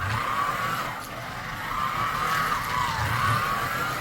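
AGM Maserati 1/43 slot car circling a Carrera GO track, a continuous whining motor hum that rises and falls in pitch as it laps, close and steady without talk.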